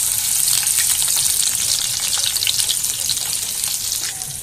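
Onions frying in a pan, giving a loud, dense, hissing sizzle that holds steady throughout, close up and with no talking over it.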